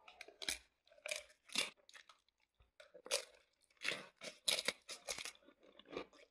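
Mini Takis rolled tortilla chips crunched and chewed up close in a series of sharp, irregular crunches with short gaps between bites, heard alone with no talking.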